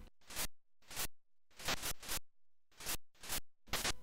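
Harsh bursts of white-noise static from a ZX Spectrum fighting game, six or seven short hissing blasts in an uneven stop-start rhythm with silent gaps between them, loud and close with no other sound.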